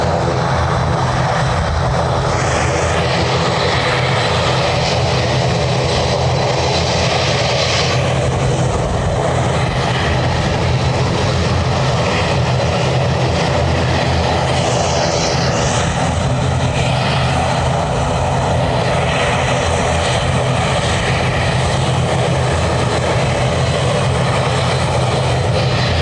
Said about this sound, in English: There's a plane waiting here and there's a plane doing a 360 out over the sea.